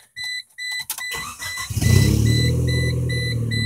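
A 1996 Geo Tracker engine cranks with a few starter bursts, then catches and settles into a steady, loud idle, with chime-like beeps from the dashboard over the top.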